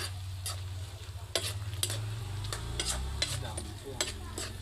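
Bicol express vegetables, string beans and winged beans with chili, are stirred in coconut milk. A utensil scrapes and clacks against the pot in a steady run of strokes over a low simmering bubble, fairly close, with no talk.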